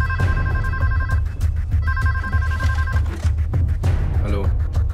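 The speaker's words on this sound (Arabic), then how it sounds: "في جرس تليفون بيرن دلوقتي في مكتب دانيال" A telephone bell rings in an office, two loud electronic ring bursts with a pause between, over a low background hum and some faint movement noise.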